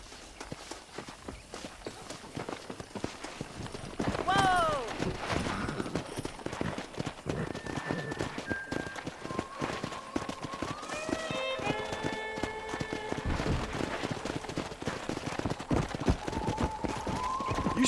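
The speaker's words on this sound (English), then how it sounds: "Let's see if we can't wrangle some horses." Horse hooves clip-clopping in the video game Red Dead Redemption, a steady rhythmic trot running throughout, mixed with western background music and faint ambient game sounds.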